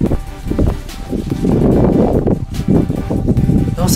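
Gusty wind buffets the microphone outdoors beside a greenhouse on a warm day, a steady low roar with brief surges and rustling, close and fairly loud throughout.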